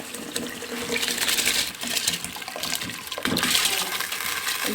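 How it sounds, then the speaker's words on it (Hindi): Rice going into a pot of boiling water while cooking Kashmiri daal chawal, a steady close watery rush and bubbling that swells and eases over a few seconds, with no talking. "पानी में उबाल आ गया। अब इसमें मैं चावल ऐड करूँगी।"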